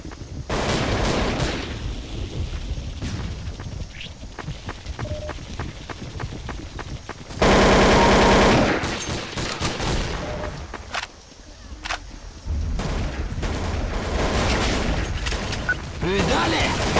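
Gunfire in the game Counter-Strike: Source on a deathmatch server, with rapid bursts of shots and sharp single cracks repeating throughout, one loud sustained blast in the middle, and voice chat speaking over the action.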